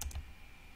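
A few sharp, quiet clicks of keys being typed on a computer keyboard while entering router configuration commands, with two quick taps at the start and another at the end over a low hum.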